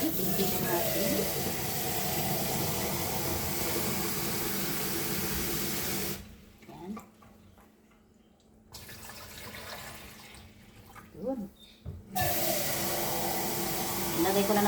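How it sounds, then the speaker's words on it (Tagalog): Water pours steadily and loudly into a new water dispenser from a 4-liter container, stopping for a few seconds amid brief speech before the gushing flow resumes. "Maglalagay tayo ng tubig."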